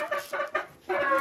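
A Marans hen in a backyard coop clucks in three short, close bursts over about a second, with no talking.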